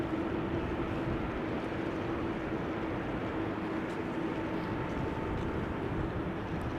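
Air Canada airliner taxiing out to runway 24 at Amsterdam Schiphol Airport, a steady broadband jet-engine rumble with a faint whine, continuous and fairly distant.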